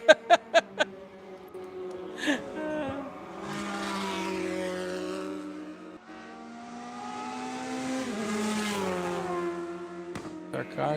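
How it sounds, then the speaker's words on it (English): Race cars at Mid-Ohio, during a Hoosier Super Tour event, scream down the straight, engines rising and falling in pitch as they pass, after a few sharp bursts at the start, with a commentator talking underneath. "Our cars barreling down Thunder Valley."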